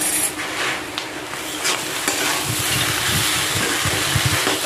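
Singara filling with garam masala being stirred in a pan, a loud continuous sizzle with scraping and clinking spatula strokes against the metal, no talking.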